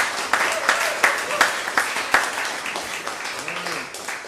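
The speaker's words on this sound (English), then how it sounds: "People often applaud before I say anything." Audience at a morning plenary talk applauding, a steady patter of many hands clapping at middling distance that fades toward the end.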